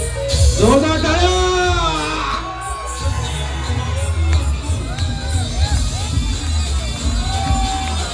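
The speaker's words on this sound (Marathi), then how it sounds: "जोरदार टाळ्या" An audience at a stage show cheers and whoops in a loud, lively wash of crowd noise, with shouts rising and falling and a voice carrying over the top.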